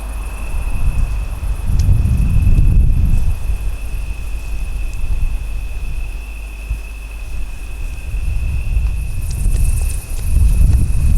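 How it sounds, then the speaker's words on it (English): Strong gusts of wind roar steadily through a dark forest at night, a dense low rumble swelling and easing in waves, with a faint insect-like hiss and steady high whine running beneath. "if you can hear anything over the gusts of wind we're being bombarded by at the moment"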